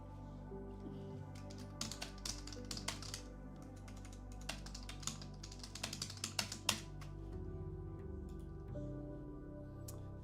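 Someone types on a computer keyboard, quick irregular bursts of close crisp key clicks with short pauses, over a constant low tonal hum of music or room noise.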